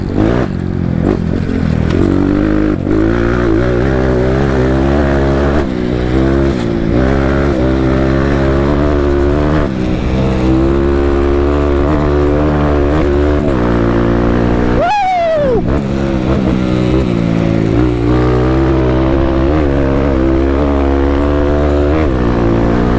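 A KAYO motorcycle ridden hard with the engine running continuously loud and close, a steady buzzing drone with rising and falling revs and one brief sharp throttle blip midway, no talk over it.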